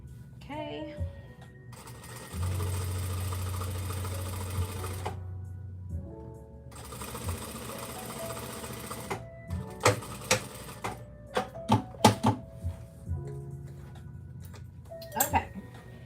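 Sewing machine stitching a girl's dress, running in bursts of steady loud whirring separated by pauses, with clicks and handling noises and a voice talking in between.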